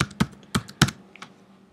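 Someone types a page title on a computer keyboard while building a WordPress website. A few sharp, close keystrokes land in a quick uneven burst, then a couple of softer taps, with no talking.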